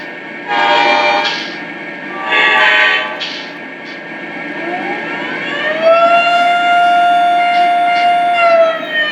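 A TCA Abraham Lincoln GP35 model locomotive sounds several short, loud horn blasts, then a siren that rises and holds a long wailing tone near the end.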